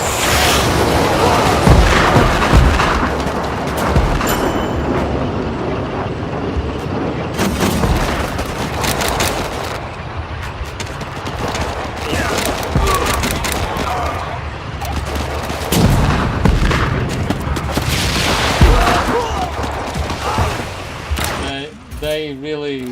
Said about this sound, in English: Killed the hero with an airstrike.